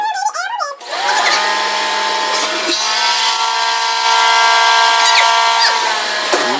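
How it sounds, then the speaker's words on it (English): A vacuum cleaner switches on and runs steadily to suck air from a stuffer balloon stretched over a container, a loud, even whining drone with tonal hum; a voice speaks briefly just before the motor starts. "Then you turn on the vacuum cleaner."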